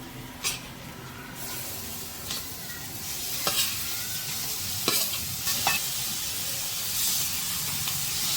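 A pigeon pea and green garlic vegetable curry hisses steadily in a pan as it is mixed, with a few scattered spoon scrapes and clinks over the continuous close sizzle, no voices.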